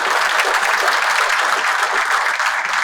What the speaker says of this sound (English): I think we can give them an applause for such a great job.